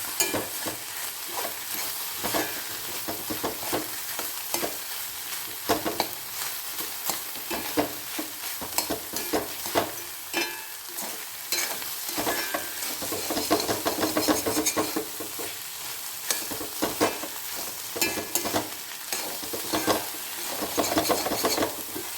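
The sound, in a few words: stirring and frying ivy gourd egg thoran in pan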